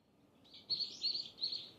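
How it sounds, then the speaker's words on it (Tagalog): Birds chirp softly in the distance during a walk around Busan's Nampo and Seomyeon area, with three short bursts of high tweets over a quiet outdoor hum. "Huni ng ibon. Yung mga huni na yan."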